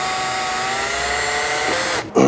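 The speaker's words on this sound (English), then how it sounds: "this reverse drill bit will grab this and extract it the rest of the way." A power drill spins a reverse drill bit to pull a broken bolt from a Mustang 2V, a loud, steady whine that holds for about two seconds before briefly cutting out and surging again.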